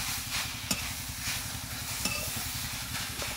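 Grated carrots hiss and sizzle steadily in a hot pan while a spoon scrapes through them in a few soft, regular strokes, close and fairly quiet.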